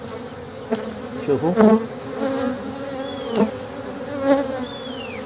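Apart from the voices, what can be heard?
honeybees buzzing as they leave a cluster around the queen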